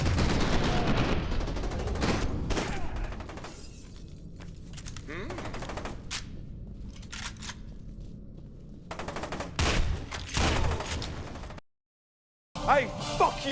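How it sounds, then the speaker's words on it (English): Weapons fire in the F.E.A.R. 2 shooter game: bursts of rapid gunshots and single sharp cracks, moderately loud, broken by short pauses and one brief silence near the end. "the guns don't sound realistic and impactful, they just sound like generic pew-pew late 2000s military shooter weapons"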